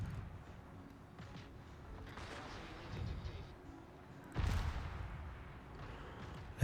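Low, rumbling booms of cannon fire in the video game World Of Wars, from four rear-mounted cannons, roll under a noisy battle din, with a sharper blast halfway through; fairly distant and muffled.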